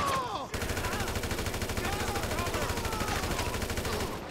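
Rapid automatic gunfire rattles almost without pause in GTA 5, dense bursts of shots close and loud for several seconds before tapering off.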